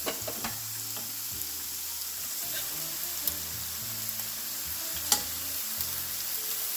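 Shrimp and flounder fry in avocado oil in two pans, giving a steady close sizzle with a few sharp pops and crackles, and no voices.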